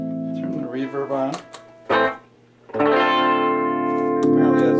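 An Epiphone electric guitar runs through an amplifier with reverb switched on: a few plucked notes and strummed chords ring out and decay in a washy tail, loud and close.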